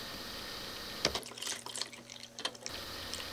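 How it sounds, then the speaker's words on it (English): A short, close pour of rubbing alcohol into a homemade brush-cleanser mixture lasts under two seconds, with soft splashing and trickling between quiet room noise. "grab your alcohol and measure out 1/4 cup, and then pour that into the mixture"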